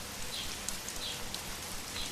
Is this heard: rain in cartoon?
yes